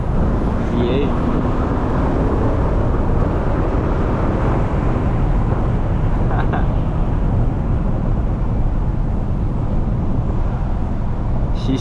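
A 2005 Mercedes S430 (W220) with its M113 V8 pulls hard on the road, giving a loud, steady low-pitched engine drone with road roar throughout from inside the cabin.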